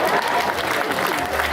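An audience at an event applauds, a continuous loud wash of clapping with crowd noise and a voice mixed in.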